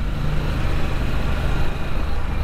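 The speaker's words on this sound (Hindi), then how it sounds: "V-twin engine" Close and steady, a Kawasaki Ninja 300 motorcycle engine rumbles low while being ridden, mixed with road and wind noise, with no voices over the short stretch.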